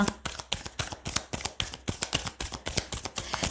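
Tarot cards are shuffled and spill onto a surface in a quick, even run of crisp papery flicks and taps, close and fairly soft, with no talking.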